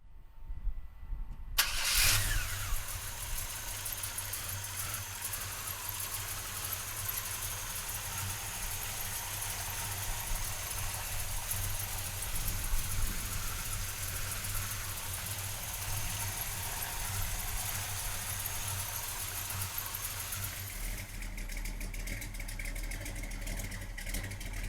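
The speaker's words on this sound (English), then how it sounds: "So come on up and we'll fire it up." A 1968 Chevrolet C10 pickup engine cranks and catches about two seconds in, then settles into a steady, loud idle with a deep low rumble that continues to the end.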